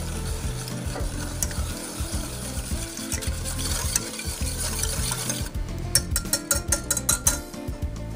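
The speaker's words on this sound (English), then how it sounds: "Now I'm just gonna give it a quick whisk" A whisk beats an egg and cream mixture in a saucepan, first as a close, continuous scraping rub. It then turns into a quick run of rhythmic metallic clicks near the end, with no talking.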